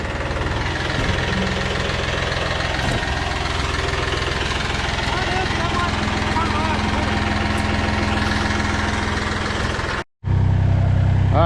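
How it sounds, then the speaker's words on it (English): A tractor engine runs loud and rough close by with a knocking, vibrating drone while its tires spin, steady for about ten seconds before a brief cut and a return. "we kind of flipped the tractor around, the tires were starting to spin"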